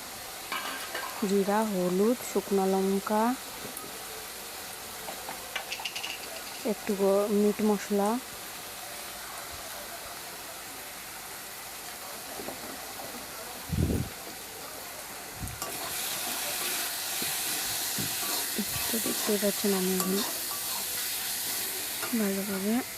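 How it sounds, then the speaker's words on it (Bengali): Chicken masala with cumin powder stirred in a hot pan makes a soft, continuous sizzle with occasional scrapes, while someone talks in short stretches over it. "এবার আমি মশলাটাকে ভালো মতো নাইড়ে নেব"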